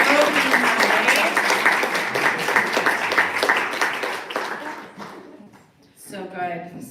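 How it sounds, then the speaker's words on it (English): Audience applause fills a poetry open mic night, steady clapping that fades after about five seconds before a voice speaks near the end. "One more round of applause for Colty and all the folks in the open"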